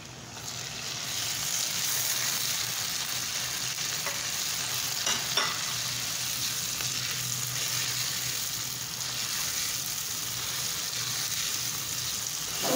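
Tomatoes and chilies fry in a pan for a chicken mash dal, a continuous close sizzle with a few stirring clinks and scrapes and no talk.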